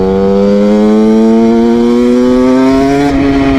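A motorcycle engine drones loud and close during a ride, its steady tone climbing slowly in pitch as the bike pulls along. No talk.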